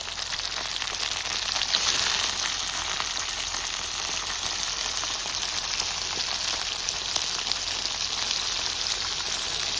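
Onion fries in hot oil in a pan over a village wood-fired clay stove for a country-style goat liver dish. A dense, even, rain-like sizzle holds steady and close for the full stretch, with no talking.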